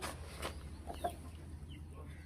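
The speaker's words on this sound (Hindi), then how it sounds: "ये हैं जी हमारे मुर्गे" Aseel roosters clucking in their cages, several soft clucks and fowl calls over a steady low hum, fairly close, with no talk.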